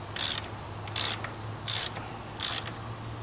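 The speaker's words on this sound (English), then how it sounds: "Now I'm just going to tighten it down." A hand ratchet tightens the oil drain plug on a Pontiac G8 with a 3.6 engine, giving rhythmic rasping clicks in four or five strokes, each followed by a short return sound, close and alone.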